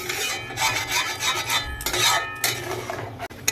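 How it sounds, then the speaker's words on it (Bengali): Cardamom pods are crushed in a home kitchen with a series of close, scraping, rasping strokes in uneven bursts, broken by brief pauses and a sharp knock near the end. "একটু এলাচ থেতো করে দেবো"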